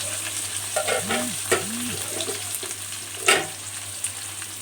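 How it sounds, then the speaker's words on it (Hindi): Chopped onions frying in hot oil for a mutton curry, a steady crackling sizzle with occasional stirring scrapes and clinks of the utensil, close and continuous without talk. "प्याज जो है वो ब्राउन हो रहे हैं"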